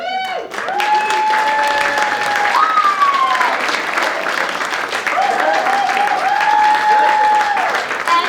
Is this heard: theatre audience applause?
yes